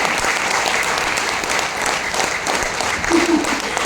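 A crowd at a Women's Day company meeting claps to welcome new members, a loud, dense, unbroken applause that carries on steadily from start to finish.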